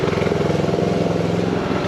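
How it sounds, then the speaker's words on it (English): A tractor engine runs steadily on a property crowded with old cars, making a close, continuous low rumble with a fast, even pulse and no voices over it. "Alright, gotta go move my tractor."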